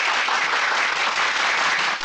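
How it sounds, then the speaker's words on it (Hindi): Sustained audience applause at a political speech event, dense steady clapping from a crowd filling the whole stretch without a break. "बजाओ ताली।"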